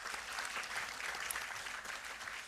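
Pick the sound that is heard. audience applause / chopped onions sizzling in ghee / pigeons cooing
audience applause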